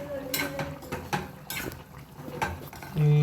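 Chicken breast pieces with ground dried red chilli powder are stirred and fried in a pan, with a run of quick metal spatula scrapes and clanks against the pan and a brief tonal hum at the end.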